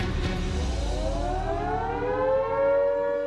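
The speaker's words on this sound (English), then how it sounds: "House alarm's going off." A house alarm siren wails, climbing steadily in pitch and growing louder, sounding loud and continuous with no voices.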